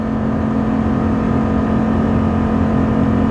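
A RAM 2500 HEMI truck with a ZF 8-speed pulls a trailer up a 6% grade, its engine holding a loud, steady low drone with constant road and wind noise, no voices over it.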